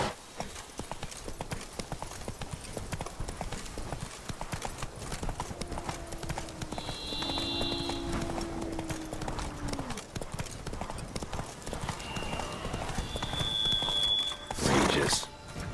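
Hooves of the horse Roach clip-clopping in The Witcher 3: Blood and Wine, steady quiet rhythmic hoofbeats with a brief whinny and a few other game sounds near the end.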